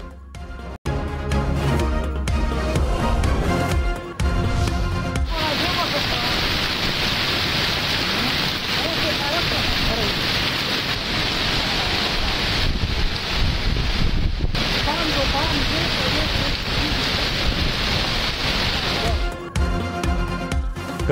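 Steady rain pours over hilly parts of Azad Kashmir, a dense continuous hiss with gusty wind rumble, loud and close, holding for most of the stretch before easing off near the end.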